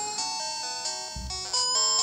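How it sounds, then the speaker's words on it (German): A mobile phone rings on a desk with a steady electronic ringtone melody, joined partway through by a low buzzing rattle of vibration against the desktop, fairly close and alone. "Mein Handy vibriert hier auf meinem Schreibtisch."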